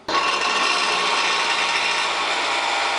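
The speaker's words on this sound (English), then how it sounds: "I'm just going to grind a little bit out of this." A power grinder steadily takes material off a metal brake bracket during a dual-piston front brake upgrade, giving one continuous, close, harsh grinding sound for about three seconds.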